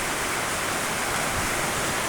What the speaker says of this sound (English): the rain is gonna getting worse again. You can heard it with your ear, right?